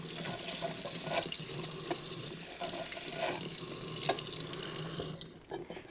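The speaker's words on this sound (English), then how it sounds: "I'm going to rinse my turkey baster." Running tap water pours steadily into a sink as a turkey baster is rinsed beneath it, a continuous close splashing hiss with small bursts from the baster, no talking.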